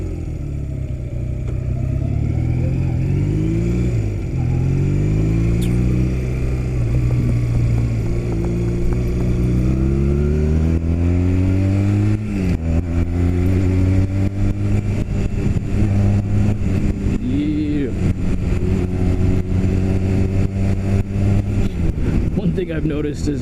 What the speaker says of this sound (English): 2008 Honda Rebel